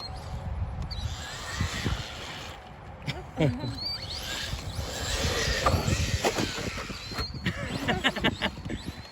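An Arrma Big Rock 3S BLX brushless RC monster truck runs over outdoor ground toward a hill, its motor whine rising and falling amid clattering and crunching bumps, with someone talking over it.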